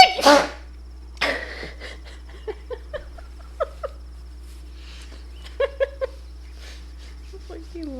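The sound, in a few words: sneeze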